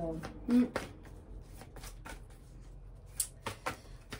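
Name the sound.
shuffling oracle cards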